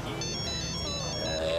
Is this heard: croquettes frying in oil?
no